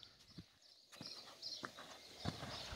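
A purebred Lusitano horse canters in a dressage arena, its hoofbeats thudding in an uneven rhythm at moderate distance over a soft background hiss.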